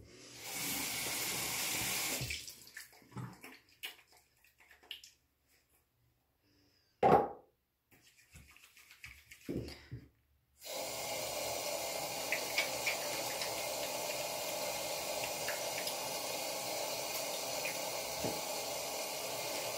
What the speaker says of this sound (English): I'm just gonna lather up with this one on my hands and show you what it looks like and how it works.